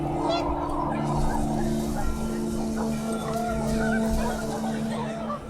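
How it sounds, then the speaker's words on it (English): Panicked geese in the video game What Remains of Edith Finch, honking in a busy flurry over gusting wind, loud and continuous with overlapping calls. "Wind picked up and panicked geese appeared and quickly went."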